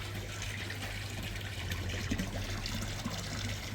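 Water runs steadily into a container as it fills, a continuous close trickling pour mixed with a low hum, with no talking.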